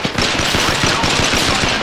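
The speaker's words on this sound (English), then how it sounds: "I am taking fire, friends." Rapid automatic gunfire from the battle royale video game Apex Legends, a loud continuous rattle of closely spaced shots running steadily throughout.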